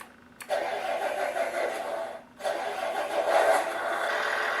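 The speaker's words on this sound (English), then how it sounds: "it has the cold start sound, then the start sound" A Beier SFR-1 sound controller fitted to a Tamiya semi truck plays a simulated truck engine cold start: a short crank, a brief pause, then a steady running rumble that swells slightly, loud and close with no talk.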